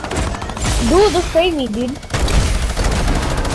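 Sustained automatic gunfire rattles in a first-person shooter game, dense and close, continuing under a player's excited speech.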